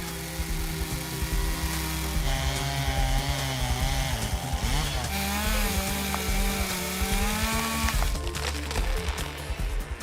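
A chainsaw runs continuously at high revs, its engine whining and bogging as it bites through timber, loud and close.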